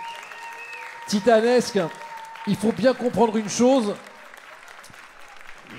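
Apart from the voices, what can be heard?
audience applauding the five burger contest finalists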